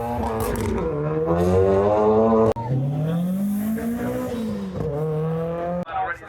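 Cars drift at a car show: engines howl and rev in rising, falling sweeps, loud and continuous, with tyres squealing now and then and a few sharp breaks in the roar.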